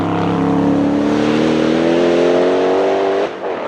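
A Noble M600 with a 4.4-litre twin-turbo V8 of 650 horsepower, driven in the Forza racing game, roars at high revs under hard acceleration, a loud sustained rising engine note that cuts off abruptly near the end.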